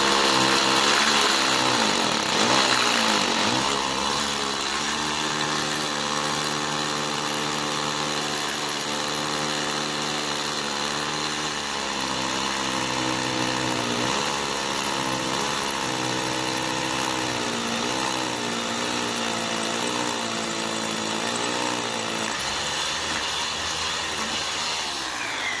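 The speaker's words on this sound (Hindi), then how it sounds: "उसके बाद आपको ड्रिल करके दिखा रहे हैं।" A power drill bores holes into a wall to fit the four mounting points of a TV wall bracket, with a loud, steady, continuous whine running unbroken for the whole stretch, its pitch shifting slightly as pressure varies.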